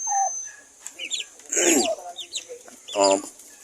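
Turkeys on a farm cluck and gobble close by in short bursts, with a brief voice in the background.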